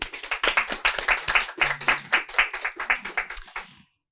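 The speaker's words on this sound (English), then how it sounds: "If we can give her a round of applause" Small audience at a book talk applauds the author, a few seconds of brisk scattered hand clapping that ends abruptly.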